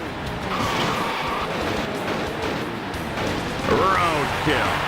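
Cars in Destruction Derby 2 on the PlayStation roar steadily with engine drone and tyre skids, and squeals rise near the end, while someone talks over the whole stretch.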